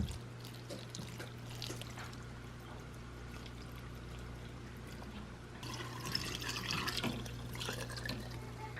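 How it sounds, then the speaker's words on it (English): Apple cider vinegar pours over tonic ingredients such as peppers, jalapeno, horseradish and cinnamon sticks, a steady trickling stream that grows fuller and louder near the end, close by over a low hum. "And then pour apple cider vinegar on top."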